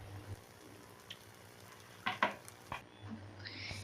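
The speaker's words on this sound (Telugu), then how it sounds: "ఇలా వాటర్ ఎగిరిపోయేంత వరకు చికెన్ని ఉడికించుకోవాలి." Chicken pieces cook in a pan until the water evaporates, giving a quiet, continuous sizzle broken by a few brief scraping stirs and clinks.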